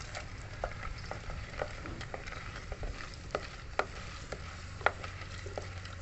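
Dry red chillies frying in plenty of hot oil for an amla pickle, a steady close crackle and sizzle with sharp spoon taps and scrapes against the pan, no voices.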